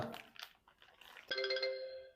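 A doctor's phone begins ringing, a single bright electronic ring tone that sounds out clearly and fades after some soft rustling and crackling noises.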